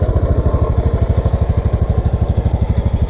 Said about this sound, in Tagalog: Papasok na yung motor.